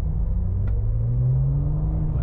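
A Porsche GT2 RS engine rumbles steadily at close range, its low drone rising slightly in pitch as it revs, with no voices; it has a light flywheel and heavy-duty clutch.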